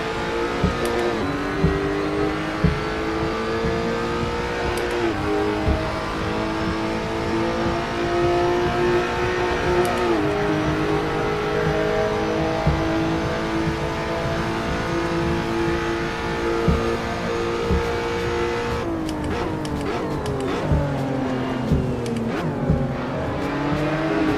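A race car engine in Assetto Corsa holds a steady high drone, with sharp blips and pitch drops as it shifts down to second gear, then rises again near the close, loud and up front.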